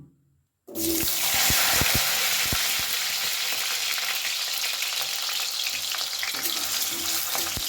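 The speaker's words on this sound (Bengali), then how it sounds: "আলুটা একটু ভালো করে ভেজে নেবে" Diced potatoes dropped into very hot mustard oil in a wok burst into a loud, steady frying sizzle close up, after a brief quiet moment, with occasional spatters and pops.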